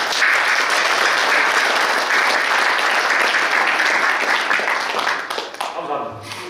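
A large audience at a Korean military academy alumni association inauguration ceremony claps loudly and steadily, the applause thinning and fading out near the end as a few scattered claps and a voice begin.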